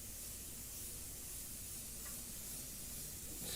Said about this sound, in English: Spray away from the mylar or the paper, whatever you're using as your shield. Always spray away.